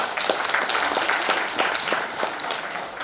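An audience applauds at an award recognition programme, giving steady, dense clapping throughout at moderate distance with no pause.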